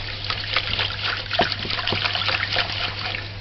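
Brown rice being rinsed with a teaspoon of white vinegar makes steady trickling and sloshing water, with soft splashes and dribbles continuing close by throughout.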